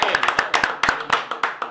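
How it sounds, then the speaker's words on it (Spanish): Sharp, irregular hand claps ring out at close range as an audience welcomes a guest during an interview show. A few loud individual claps stand out over a faint murmur. "vamos a recibir un fuerte aplauso."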